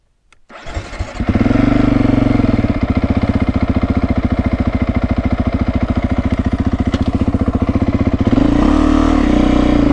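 A Beta 350 dirt bike engine cranks and catches, then settles into a loud, steady, fast-pulsing idle and rev close to the mic, with a brief throttle blip near the end.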